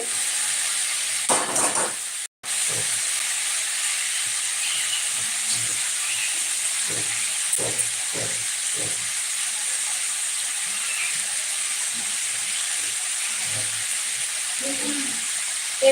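Botha shak greens frying in a pan, giving a steady close hiss and sizzle with occasional soft stirring knocks and a brief break partway through.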